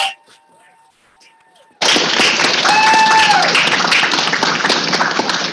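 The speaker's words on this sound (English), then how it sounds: "I'd like to give you a round of applause for" Audience applause at a 2021 graduation ceremony starts abruptly after a moment of quiet and holds as a loud, dense, steady wash of clapping to the end, with a brief tonal whistle or cheer rising through it.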